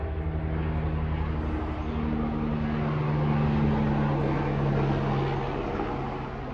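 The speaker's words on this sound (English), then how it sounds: "Sorry for the plane." A low droning airplane passes overhead outdoors, its steady engine hum swelling gently toward the middle and easing off, continuous with no voices.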